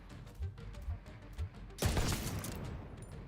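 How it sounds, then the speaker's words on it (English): A flashbang grenade goes off in a shooter game with a sudden loud burst that lingers into a ringing wash, after a few soft footstep-like thuds. "Flashbang out of nowhere."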